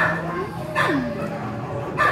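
A white and tan pit bull mix gives a couple of short, high yips and whimpers at close range, with a soft voice talking gently alongside.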